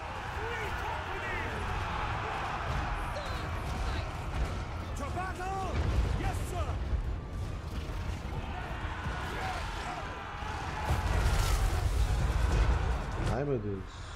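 Gunfire rings out in a Total War: Warhammer 3 battle, with scattered thumping shots and bursts of varying loudness over a busy in-game background while voices talk.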